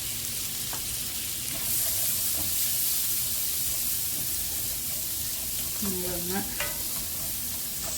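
Sliced onions and green peas for a kurma sauté in a pan, giving a steady soft sizzle with occasional scrapes and clinks of stirring throughout.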